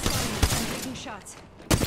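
Video game gunfire during a Wraith match in an Apex-style battle royale: a few sharp shots, one near the start and a loud burst near the end, over steady game sound and background noise.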